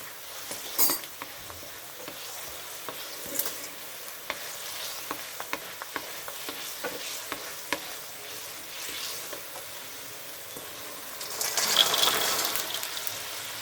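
Crispy pork cracklings, puffed from rendered pork skin, stir-fried with sweet basil in a pan: a steady sizzle with scraping stirs and occasional clatters of utensil on metal, louder bursts near the end, no talk.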